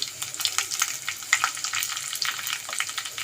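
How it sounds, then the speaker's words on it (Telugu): Cumin, chana dal and mustard seeds fry in hot oil while tempering, giving a steady close crackling sizzle with small pops throughout, no voices. "ఇదిగోండి జీలకర్ర పచ్చనపప్పు ఆవాలు వేసుకుంటున్నా అవి వేగాక ఇదిగోండి వెల్లుల్లిపాయలు రెమ్మలు వేసుకుంటున్నా"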